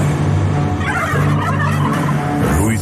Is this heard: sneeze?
no